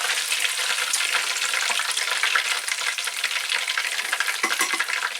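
Beer-battered chicken nuggets deep frying in hot oil, a loud, dense, continuous crackling sizzle close up with no talking.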